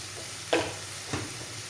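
Spice powders stirred into an egg and vegetable stew sizzling in a pan, two short scraping stirs over a steady low fry hiss, close and fairly quiet.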